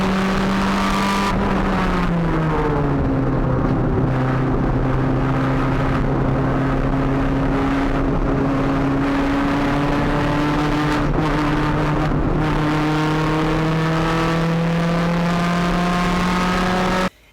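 A Honda Civic EG on coilovers on a hot lap around a race track: a loud, continuous engine note that climbs through each gear, with quick drops at the shifts, and no voices.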